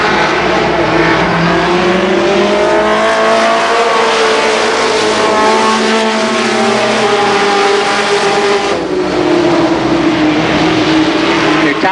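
Stock cars race past at Columbus Motor Speedway, engines roaring loud and steady as the pack streams by in a continuous wave, with a public-address announcer talking over the noise throughout.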